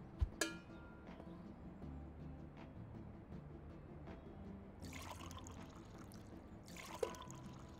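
Liquid poured into a bucket in Brewpub Simulator, a soft trickling stream under low background noise, with a couple of sharp clinks near the start and bursts of louder splashing later on.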